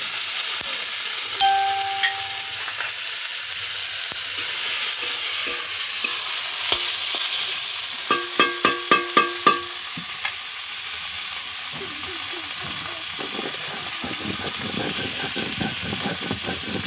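Tomatoes frying with garlic and cumin paste in a pan, a steady close sizzle with scraping stirs and a brief burst of clinking strokes partway through.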